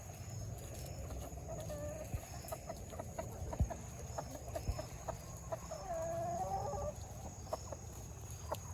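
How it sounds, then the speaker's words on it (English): A rooster loose outside at a homestead clucks softly in short bursts amid a faint steady background hum, its low calls scattered and moderately near, with a longer vocalization partway through. "But the silly rooster is out."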